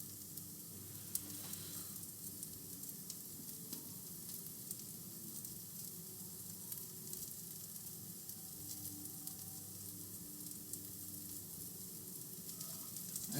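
Garlic frying in a carbon steel pan, a soft, steady sizzle that continues throughout at low level, without talk.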